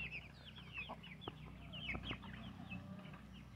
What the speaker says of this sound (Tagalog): Yung mga alaga ko na mga Rhode Island chicken.